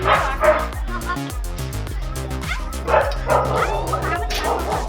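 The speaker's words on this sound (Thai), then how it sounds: "นะลูกมันเป็นหมามันจะกัด" A small dog yips and whimpers repeatedly over steady background music at PC Ranch Cowboy Town, with occasional short barks mixed in.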